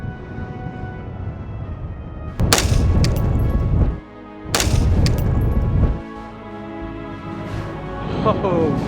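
A 5.56 LMT MARS-L rifle shot into a watermelon outdoors, heard as two sharp loud cracks a couple of seconds apart with a short ringing tail, while someone talks around them.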